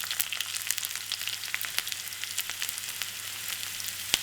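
Mustard seeds, cumin, five crushed garlic cloves, asafoetida, four dried chillies and curry leaves sizzle in hot oil, a steady close crackle dotted with sharp pops, with no talking.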